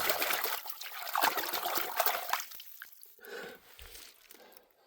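Water trickles and splashes over a hand being rinsed of Spring Creek mud, a steady close pour that thins into softer, sparser dribbles near the end.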